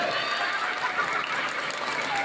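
Audience applause at a gay beauty pageant in a barangay, a dense, steady wash of clapping and crowd noise filling the whole moment without a break.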